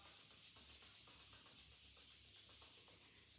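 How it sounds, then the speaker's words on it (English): Palms rubbing together during a meditation practice, a soft, steady, dry swishing that keeps up a gentle back-and-forth rhythm, close and quiet with no talking. "rubbing your palms"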